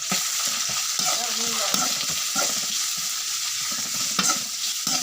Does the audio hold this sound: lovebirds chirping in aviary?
no